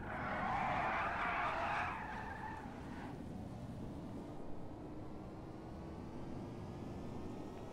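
Bravado Buffalo EVX car in GTA Online speeding flat out down a runway toward top speed, a loud sustained engine drone with a brief tire-skid whine at the start that settles into a steady roar, no talking.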